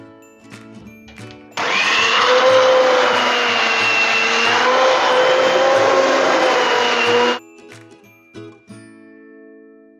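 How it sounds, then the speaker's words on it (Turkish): A blender whirs loudly for several seconds puréeing cooked vegetables for homemade ketchup, its motor pitch wavering slightly as it churns, then cuts off abruptly into quiet kitchen sounds. "Sebzeler soğuduktan sonra blenderdan geçiriyoruz."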